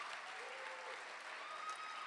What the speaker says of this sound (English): one last applause for the wonderful library choir